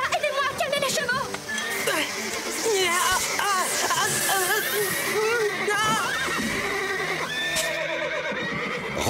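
Several cartoon horses neigh and whinny in a frantic, overlapping chorus on a ranch, loud and continuous with occasional clattering, under excited voices.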